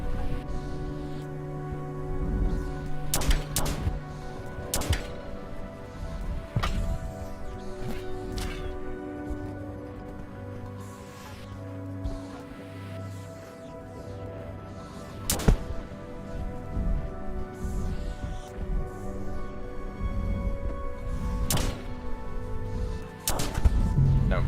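Shots fired at a pipe in Rain World, several sharp loud bangs spaced irregularly over a droning game background, with no talk.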